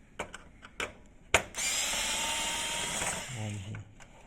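A small powered screwdriver whirs steadily while removing screws from an HP Smart Tank 580 printer, preceded by a few sharp clicks and taps, close and fairly loud, with the motor winding down near the end.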